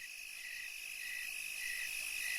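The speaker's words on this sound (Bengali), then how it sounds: "নিশিকালো অন্ধকারের মাঝে শুধু ঝিঝি পোকার ডাক কানে ভেসে আসছে" Steady, continuous high-pitched insect trilling of crickets at night during the rainy season, a dense chorus with no other sounds.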